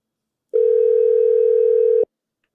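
A steady single-pitch telephone dial tone on a radio call-in line holds for about a second and a half, clear and alone, then cuts off abruptly.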